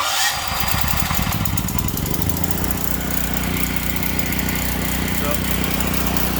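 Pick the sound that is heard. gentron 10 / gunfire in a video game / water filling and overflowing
gentron 10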